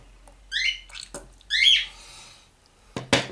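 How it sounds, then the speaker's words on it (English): A loud, close bird squawks in sharp, harsh bursts separated by short pauses, with a final abrupt screech near the end over an otherwise quiet room. "this fucking bird won't shut up"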